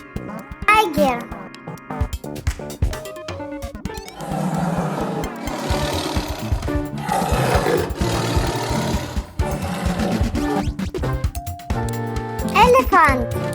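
A tiger roars in a wild-animal sound compilation for children, with a loud, sustained growling roar running for several seconds among other sounds.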